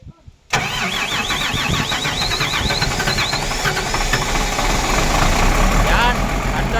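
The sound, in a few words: engine starting and running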